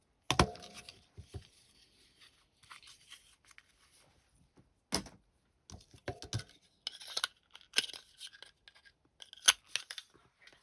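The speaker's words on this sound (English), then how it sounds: "snip that at a slight angle." Several sharp snips and scissor clicks cutting ribbon, close and crisp, scattered irregularly with quiet gaps between them.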